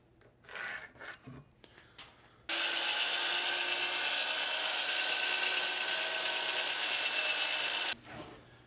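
A saw rasps through wooden shelf pieces, cutting them to length in one loud, steady, continuous stroke of about five seconds, with a few scattered knocks and handling sounds before it and quiet after.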